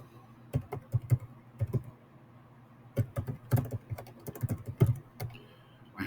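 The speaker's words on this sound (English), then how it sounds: "Sorry for my bad typing." Typing on a computer keyboard, close and clear, with irregular bursts of sharp key clicks separated by short pauses.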